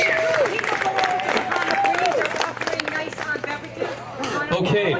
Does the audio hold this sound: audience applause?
yes